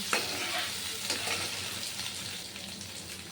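Red, green and yellow capsicum and chillies are stirred in a pan for chilli chicken: a dense, continuous sizzle with rough scraping strokes close by.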